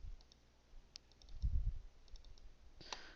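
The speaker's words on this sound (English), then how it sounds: "I've evidently double clicked one too many times" Rapid mouse clicks from an InDesign CS4 editing session, a quick faint click near the start followed later by a brighter cluster of clicks, all in a quiet room with no talking.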